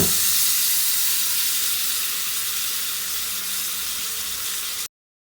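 A slice of garlic cheese bread frying in a pan over a low flame gives a steady, even sizzling hiss that runs for several seconds and then cuts off abruptly.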